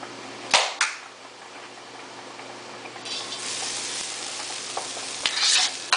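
Carrots, onion and garlic sizzling in a pan for vegetarian lumpia, a steady frying hiss punctuated by a few sharp stirring scrapes and bursts of louder sizzle, close up with no voices.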